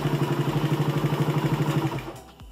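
A motorcycle engine idles steadily while warming up, its close, even low pulsing throb lasting about two seconds before fading into a brief clatter and quiet.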